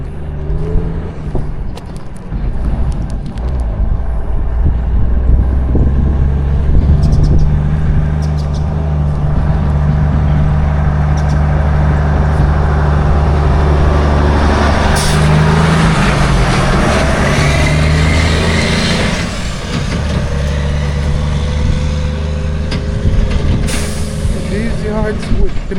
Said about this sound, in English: the truck will come